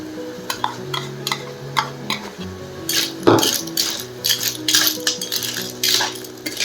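Metal spoon scraping and clinking against a pan as masala is stirred into clams for a Mangalore-style clams sukka, with irregular close scrapes and taps over steady background tones.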